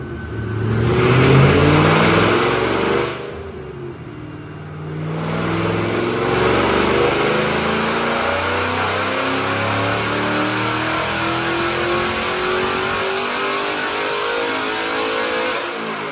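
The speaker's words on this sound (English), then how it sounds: "Check out this dyno pull." A 2007 Ford Mustang GT with bolt-on parts, long-tube headers, a Ford Racing aluminum driveshaft, 3.73 gears and a McLeod clutch roars loudly on a DynoJet dyno. The engine revs up, eases off briefly, then climbs in one long, rising pull.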